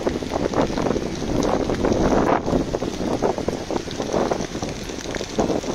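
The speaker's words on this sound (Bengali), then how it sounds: "গতকালকে রাত্রে থেকে মুষলধারে বৃষ্টি হচ্ছে সিলেটে এবং প্রচণ্ড বাতাসও রয়েছে" Heavy downpour and strong wind beside the Surma river in Sylhet make a loud, dense, continuous roar of rain and gusting air with no talk.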